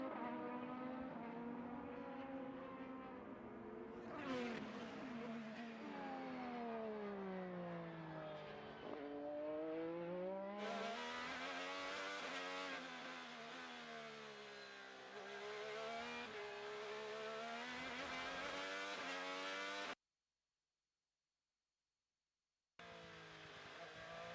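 IndyCar race cars lap a track during an open test session at Thermal, engines rising and falling in pitch as they pass and downshift, with a sudden drop to silence near the end before the roar returns.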